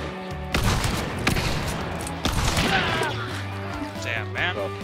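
Rapid gunfire from Hunt: Showdown, several sharp shots cracking in quick succession under excited players talking over the action.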